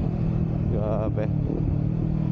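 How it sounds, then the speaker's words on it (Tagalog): Inline-two motorcycle engine droning steadily and loudly under a rider on the road, with a voice speaking briefly over the continuous engine noise. "Kahit inline 2 lang pero napakaingay."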